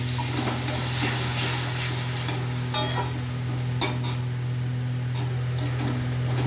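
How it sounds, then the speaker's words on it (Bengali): Ground tomato paste fries in a pan for vegetarian chili paneer, giving a steady sizzle over a low constant hum, with a spatula scraping and stirring in short strokes. "বেটে রাখা টমেটোগুলোকে আমি দিচ্ছি"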